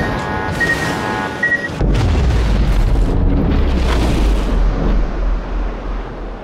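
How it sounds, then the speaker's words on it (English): Torpedo hits on a warship in World of Warships, a heavy booming explosion that swells into a sustained loud low rumble, close and dominant, with no talk over it. "Holy fucking torpedoes."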